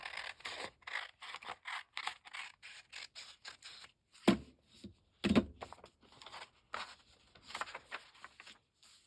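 Scissors cut paper for a bird-themed junk journal in repeated crisp snips, close and fairly quiet, with short pauses between cuts and two sharper, louder clacks partway through; no one speaks.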